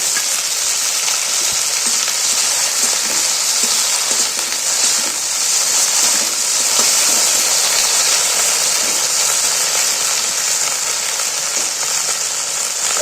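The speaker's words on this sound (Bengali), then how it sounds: "এখানে আমার কেটে রাখা ভেন্ডি এর মধ্যে ছেড়ে দেবো" Cut okra fries in hot oil with ginger and garlic, giving a steady, close, bright sizzling hiss that holds evenly throughout with no talking.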